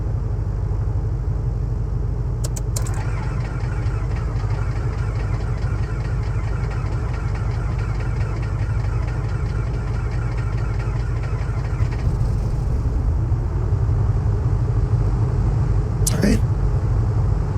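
Aircraft piston engine starting and settling into a steady low idle rumble in Microsoft Flight Simulator 2024, a continuous loud drone that runs unbroken throughout, with a couple of brief clicks near the start and near the end.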